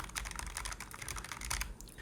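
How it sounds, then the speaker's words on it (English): Rapid keystrokes on a mechanical keyboard with low-profile linear switches, a steady patter of close, crisp clicks on a desk, heard alone without voices. "Now I am typing on my mechanical keyboard with low profile linear switches"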